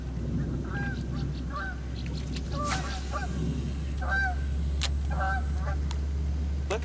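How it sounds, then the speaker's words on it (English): Geese honk repeatedly near the water on a fishing outing, several distinct calls in bursts over steady low background noise and wind. "We're on over by the geese."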